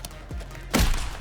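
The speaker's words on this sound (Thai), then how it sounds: "สไนเปอร์ยิงอัดไปหนึ่งนัด" A single sharp sniper rifle gunshot in the video game Warzone, preceded by a faint softer thump, short and close.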